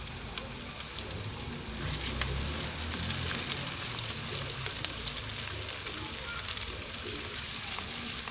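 Cumin seeds and two medium onions fry in hot oil for an aloo gobi curry, a steady dense crackling sizzle that holds close and even throughout.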